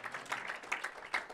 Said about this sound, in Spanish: ¿Qué les parece si damos un aplauso al Señor por nuestras finanzas?